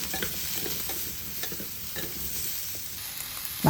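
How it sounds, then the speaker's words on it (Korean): Zucchini, onion and asparagus stir-fry in brown rice oil in a preheated pan, giving a steady close sizzle with scraping stirs throughout and a brief louder clatter at the very end. "예열된 팬에 현미유를 두르고 호박, 양파, 아스파라거스 먼저 볶아줍니다."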